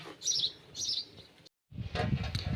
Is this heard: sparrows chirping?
yes